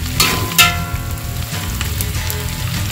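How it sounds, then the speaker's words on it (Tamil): Green chillies and onion sauté in hot oil and ghee for a chicken biryani, giving a loud, continuous sizzle with a couple of sharp crackling bursts as they are stirred. No one speaks. "பச்சை மிளகாய் வெங்காயம் வந்து நல்லா அந்த எண்ணெய் நெய் எல்லாத்துலேயும் படுற மாதிரி நல்லா வதக்கிடுங்க"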